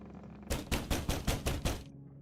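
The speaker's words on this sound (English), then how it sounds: "There's a loud banging on your door" Loud, heavy banging on a wooden door in the video game The Pale Beyond, seven evenly spaced thuds close up over a low background hum, with no talk.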